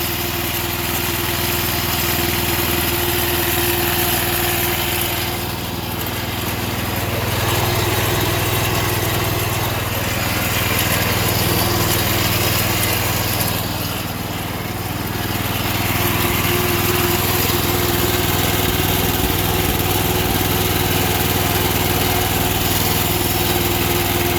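Old Sears lawn tractor running with its mower deck engaged, a loud, close, steady engine drone with a mechanical whir that dips slightly twice before settling back to a constant run.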